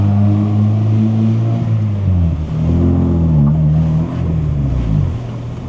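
Honda Prelude engine revving while driving, a loud close drone whose pitch climbs, dips and climbs again in smooth sweeps before settling.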